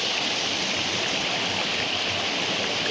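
Water rushes steadily along a village irrigation channel in Sangulwadi, in Konkan. It makes a continuous, fairly loud broadband hiss and burble with no pauses and no voices.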